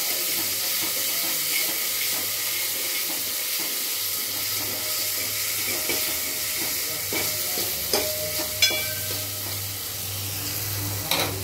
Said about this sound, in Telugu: ఉల్లిగడ్డ కొంచెం ఉడకాలి, నూనెలో మంచిగా ఫ్రై అయితే మంచిగా